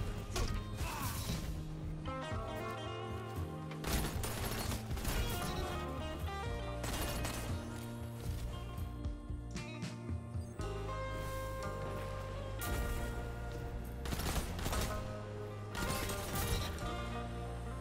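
Video game gunfire from the Blast Furnace pulse rifle in Destiny 2 comes as repeated sharp bursts over a loud, layered game soundtrack, with impacts and effects crowding the mix.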